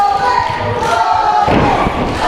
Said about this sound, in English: And just driving that knee and shin into the face and neck and chest area of Mullet man.